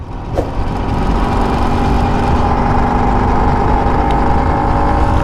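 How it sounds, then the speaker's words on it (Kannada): A loud, steady engine drone runs throughout from a 1976 Vespa two-stroke scooter cruising along at constant revs, with no talking. "ಈ ಗಾಡಿಯಲ್ಲಿ ಓಡಿಸೋದೇ ಮಜಾ ಹಂಗೆ ಸೌಂಡು ಹೆಂಗಿದೆ ಸೌಂಡು"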